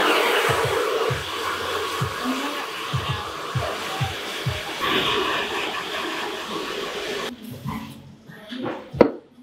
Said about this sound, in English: And then we're drying through.